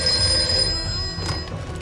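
A telephone rings in a home, its bell trilling steadily and clearly close by for the whole short stretch, with no talk over it.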